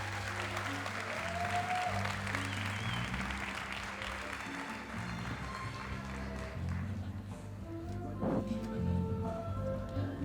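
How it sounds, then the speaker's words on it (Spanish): Audience applause for a speaker at a Pi Day science night, a fairly faint, continuous clatter of hands mixed with background music and some stray voices. "Un aplauso, por favor, a Gregorio Moreno."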